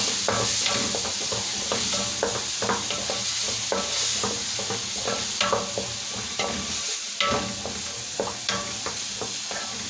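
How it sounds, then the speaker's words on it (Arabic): Onions frying in a pan for stuffed cabbage are stirred steadily, a close continuous sizzle broken by repeated scraping strokes of the spoon, with no talking. "افضل بقى اقلب فيها شويه كده حلوين لحد ما نلاقي لون البصله دي بدات كده تلون وتاخد لون معانا"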